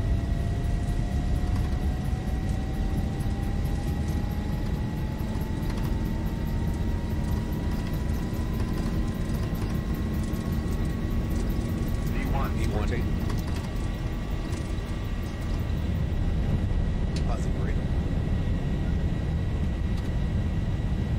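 Simulated Boeing 737 jet engines spooling to takeoff thrust in X-Plane 11, a steady loud roar with a slowly rising whine, continuous throughout, with brief speech over it.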